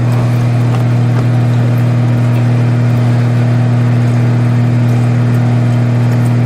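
A vacuum sealer pulls the air out of a bag in a workshop, giving a steady, loud mechanical hum with a strong low drone that holds even throughout, with no talking.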